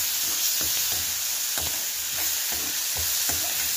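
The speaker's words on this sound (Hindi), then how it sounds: "थोड़ी सी हल्दी लाल मिर्च धनिया पाउडर में डाल के इसको भूनेंगे" Turmeric, red chili and coriander powder roast in a hot pan with a steady sizzle, while a spoon scrapes and stirs in irregular strokes close by, with no talking.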